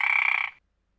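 A cartoon frog character in a children's read-aloud story gives one sustained, loud, buzzy croak lasting about half a second, then cuts to silence.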